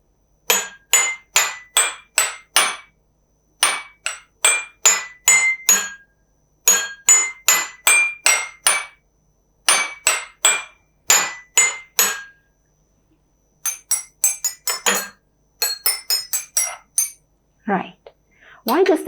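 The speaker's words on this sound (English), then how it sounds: "different sounds are produced from different beakers" Same-size glass beakers filled with different levels of water are struck one after another in quick runs of bright ringing clinks, each pitch slightly different, clear and close with short pauses between groups.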